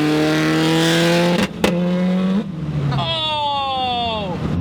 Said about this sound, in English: going back to that exhaust, is that it does not drone at all.